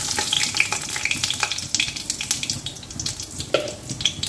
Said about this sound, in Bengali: কড়াই তেল হয়ে গেছে আমি দেব শুকনো লঙ্কা এটা শুকনো লঙ্কা ফোড়ন দিলে ভালো হবে